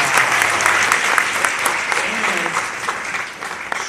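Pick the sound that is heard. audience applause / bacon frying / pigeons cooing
audience applause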